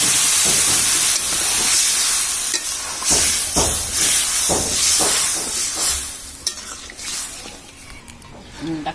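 Water poured into a hot pan of spiced fish and cucumber curry sends up a loud, steady hiss and sizzle that slowly fades, with stirring scrapes and clinks over it and no talk.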